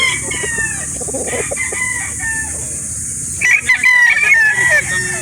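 Kelso Sweater gamefowl rooster at a poultry market in Calauan, Laguna, crowing loudly nearby with shrill repeated calls, other fowl clucking and a voice faintly in the background.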